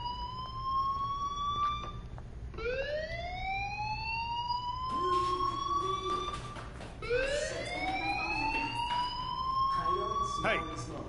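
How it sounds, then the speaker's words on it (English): A school fire alarm in the Life is Strange video game wails in repeated rising sweeps, loud and steady, with faint voices underneath. "Hey, do you hear that fire alarm?"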